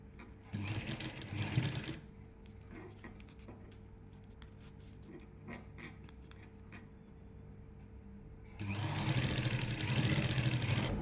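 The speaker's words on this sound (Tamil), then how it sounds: "இப்போ நம்ம பைப்பிங் தைச்சிட்டோம்." Sewing machine stitching piping onto a churidar neckline, loud steady whirring bursts at the start and end with a quieter stretch of handling noise between, no talking.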